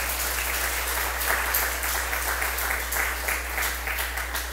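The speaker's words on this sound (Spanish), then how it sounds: "Dale un aplauso al Señor" Congregation applauding in church, a steady wash of many hands clapping with a constant low hum underneath.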